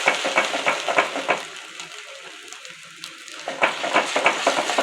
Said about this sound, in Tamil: ஒரு முட்டையை ஸ்டிர் பண்ணணும்.